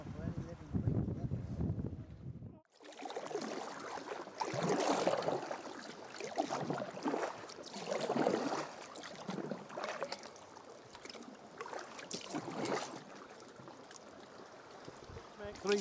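Sea kayak paddling along the Scottish coast between Eyemouth and St Abbs Head, with rhythmic paddle splashes and water swishing close by amid wind noise, repeating strokes every couple of seconds.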